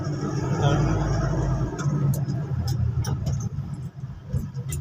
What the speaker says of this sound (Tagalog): Haba ng traffic.